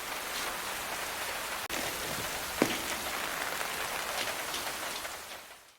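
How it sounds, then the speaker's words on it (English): Heavy rain pours steadily, a dense, loud, continuous hiss of drops on surfaces that stays constant and then fades out at the end, with no voices. "The heavy rain deepens the tension."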